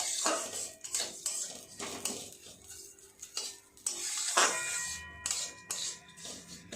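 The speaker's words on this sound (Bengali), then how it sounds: "আমি ভেজে নেব গ্যাস কমিয়ে রেখে আস্তে আস্তে সিমাইটা ভেজে নেব" Vermicelli (simui) fries in ghee in a pan on low gas, with a quiet sizzle under repeated clinks and scrapes of a spoon stirring against the metal.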